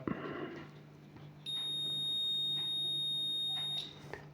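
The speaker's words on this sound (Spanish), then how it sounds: "Entonces ponemos el polímetro en continuidad." A multimeter on continuity setting gives a long, steady high-pitched beep while its probes test the windings of a brushless motor. The tone is close and clear over a low hum and then cuts off.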